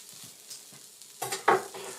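Cheesesteak ingredients sizzling on a griddle, soft crackling and a few scraping stirs, with a louder burst of scraping near the end, fairly quiet and close.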